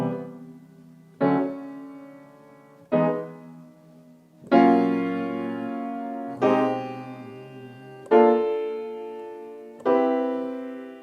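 Major seventh chords in cycle 2 harmony, roots moving by whole steps, are played as seven separate struck chords. Each one rings and decays before the next, in a slow, even sequence with no talking.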